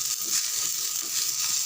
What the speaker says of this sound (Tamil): இப்போது நம்ம எடுத்து வச்சுருக்க கொத்தமல்லி இலையை அப்படியே சேர்த்து வதக்கணும்